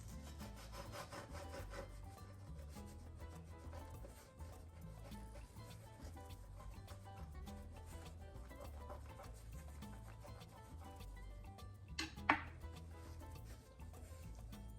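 A knife saws through a fluffy Guyanese fried bake (float), making faint, repeated rasping strokes up close, with one sharper click near the end.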